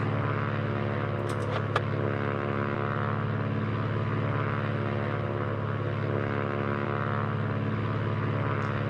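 Propeller aircraft taxiing toward the runway in Microsoft Flight Simulator 2024, a steady droning engine hum held at constant pitch, with a couple of brief clicks early on.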